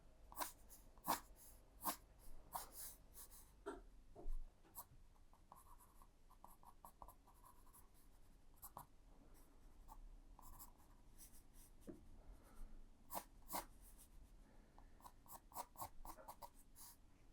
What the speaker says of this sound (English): I'll sketch it for now, and at least then it's there